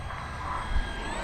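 A Freewing F-14 Tomcat RC jet doing a touch and go, a steady whining turbine roar with a brief low thump midway, moderately distant.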